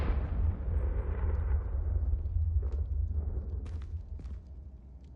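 A Confringo fire spell bursts in the Hogwarts Legacy video game, a loud, sustained, booming blast with a heavy low rumble that slowly fades over several seconds, with faint crackles near the end.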